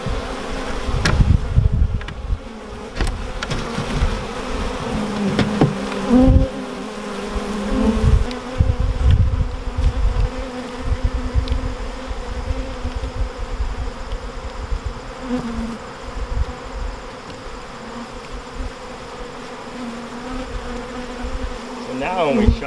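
Bees buzz steadily around an open horizontal beehive, a dense insect drone with individual bees passing close by now and then, continuing without a break throughout.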